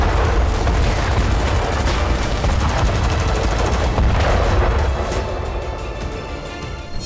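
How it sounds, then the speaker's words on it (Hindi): Dense, continuous rumbling blasts and rapid gunfire from bombing in Gaza, near a hospital, roaring loudly without a break throughout and easing slightly toward the end, with no voices. "इजरायली सेना हमास के ठिकानों पर चुन चुन कर बम बरसा रही है।"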